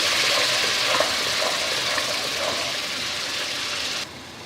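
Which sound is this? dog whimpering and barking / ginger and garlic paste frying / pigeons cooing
ginger and garlic paste frying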